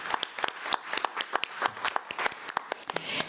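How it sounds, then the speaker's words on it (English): Sparse applause from a board meeting audience, a few people clapping in uneven, distinct claps that carry on steadily without a crowd roar. "give them a big round of applause"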